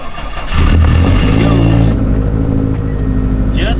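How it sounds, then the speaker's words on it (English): A turbocharged car running on pump gas makes a cold start: the engine cranks, catches with a loud flare after about half a second, then settles into a steady, rumbling high idle, recorded up close. "So, a little cold start for the boys."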